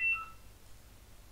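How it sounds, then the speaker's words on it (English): Brief electronic phone beep tones sound at the very start, short and fairly clear, then fade into a quiet low hum for the remaining second. "and that's the phone, if you're wondering."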